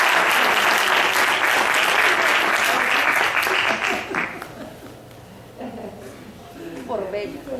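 Audience at the opening ceremony of a Latin American conference applauds the woman introduced as master of ceremonies; loud, dense clapping for about four seconds, then it dies away and speech follows.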